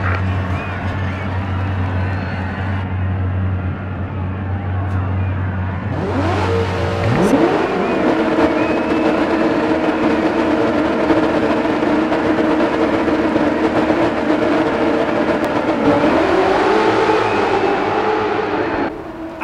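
Rally car engines roar into life at the start of a DiRT 4 semi-final at sunset, a low idle rising into loud sustained revving and acceleration, with pitch swings as the cars take off, under commentary.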